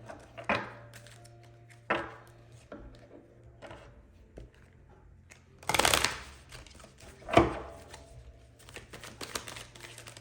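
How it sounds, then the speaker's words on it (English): Several short bursts of tarot card shuffling, close up, with quiet gaps between them and two louder riffles near the middle; no talking. "let me give this a good shuffle"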